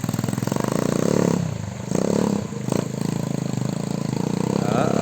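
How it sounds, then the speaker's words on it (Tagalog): A loud motorcycle engine runs steadily nearby with a pulsing, buzzing idle and a couple of brief revs, while someone talks over it. "Ang lakas ng kanyang motor."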